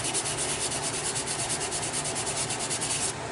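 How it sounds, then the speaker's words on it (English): Steady rhythmic sandpaper rubbing on a resin model kit, quick back-and-forth strokes close up, continuing for a few seconds before stopping abruptly. "So I'm sanding away that excess"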